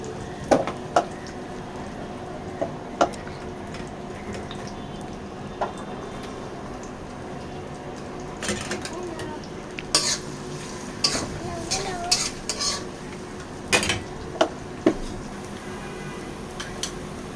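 Chopped onions frying in oil in a wok for chicken curry, a low continuous sizzle broken by sharp metal clanks and scrapes of stirring, closer and busier toward the end.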